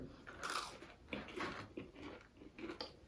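A whole chicken nugget bitten in one go during a Domino's eating challenge, with several close, crisp crunching bites and chews in quick succession, quiet and with no voice over them.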